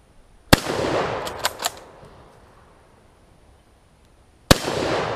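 Two sharp rifle shots from a Turkish Mauser Gewehr 98, one near the start and another about four seconds later, each a loud close crack followed by a long ringing outdoor echo.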